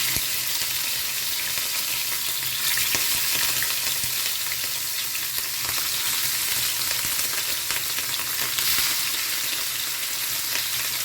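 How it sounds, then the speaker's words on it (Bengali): Pieces of rohu fish fry in hot oil for an Assamese fish curry, a continuous close crackling sizzle with spattering pops throughout, steady in loudness, with no talking. "মাছগুলো একটু ভাজা হোক।"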